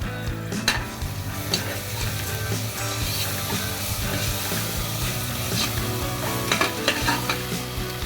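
Ginger garlic paste frying in a pan for chicken biryani, a dense continuous sizzle with occasional sharp stirring clinks and scrapes, close and steady, no talking.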